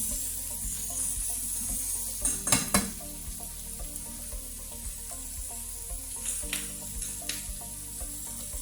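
Vegetables fry in a little oil on a home hibachi griddle, with steady sizzling broken by scraping and clattering stirs from a utensil, a louder burst of scraping early on and lighter taps later.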